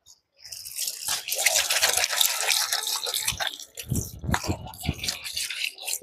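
Water gushes and splashes while a household water softener in Kanuru, Vijayawada is being cleaned. The rushing stream is close and continuous, with sputtering, uneven bursts toward the end.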